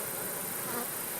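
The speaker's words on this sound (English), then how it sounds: "There's lots of bees in this box." Honeybees fill a hive box with a dense, continuous buzz, loud and close, holding steady for just over a second.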